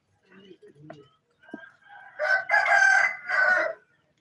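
A rooster crows loudly close by in one drawn-out call, after a few softer clucks and chicken sounds at a backyard coop.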